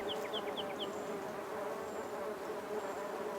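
Honeybees buzz steadily in and around a beekeeper's hive, a dense continuous drone with a few individual bees passing close by.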